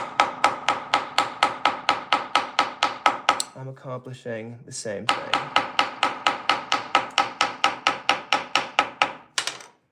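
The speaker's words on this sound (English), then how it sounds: "I'm hoping that by just kind of smushing it with this hammer" A hammer strikes wood in a fast, steady series of sharp knocks, briefly interrupted by a short spoken remark, then the pounding resumes.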